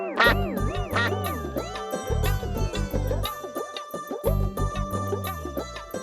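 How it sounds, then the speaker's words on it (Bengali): A cartoon duck gives repeated loud nasal quacks in three bursts, set against a light musical backing. "একটু প্যাক প্যাক করো না।"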